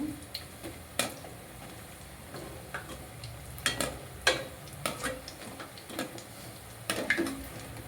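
Rice flour punugulu fritters fry in oil with a soft background sizzle, broken by irregular clinks and scrapes of a utensil stirring them in the pan.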